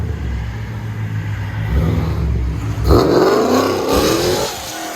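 Dodge Scat Pack running E85 on a special tune, its exhaust rumbling close and loud before surging into a hard rev that peaks and then drops back, with no talking.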